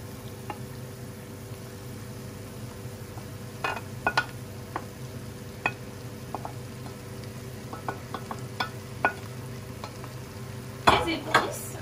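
Onions and peppers sauté quietly in a pan with a low, steady sizzle, scattered clicks and scrapes of stirring, and a louder clatter near the end.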